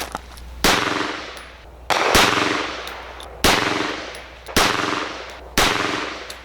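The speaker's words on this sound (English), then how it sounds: "So I took a few shots, shot right up on that hole, and I shot here." AMT AutoMag II .22 Magnum pistol fired at a target about 10 yards away, five sharp loud shots spaced roughly a second apart, each with a short decaying echo, no talking.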